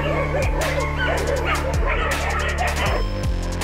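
Several dogs bark and yip in a kennel enclosure, with repeated close, loud barks and some whimpering over a constant background of hammering and activity, and a person speaks at times.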